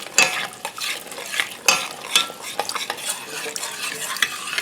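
Creamy kielbasa and vegetable tortellini soup being stirred in a pot, with repeated close spoon scrapes and clinks against the metal and a soft bubbling underneath.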